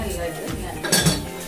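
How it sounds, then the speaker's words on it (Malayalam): Dishes being washed nearby in a home kitchen, a few light clinks and clatters of pots and cutlery against a steady background, with people talking. "ഇവിടെ ഒരാള് പാത്രം കഴുകിക്കൊണ്ടിരിക്കുന്നുണ്ട്"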